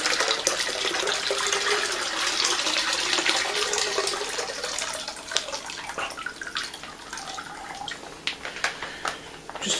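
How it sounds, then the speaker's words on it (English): Water pours and splashes steadily into a wine kit fermenter being filled to the 6 gallon mark for a Gewurztraminer kit, a close continuous gush that thins into drips and trickles toward the end. "filling this bag up with some water and pouring it in up to the 6 gallon mark"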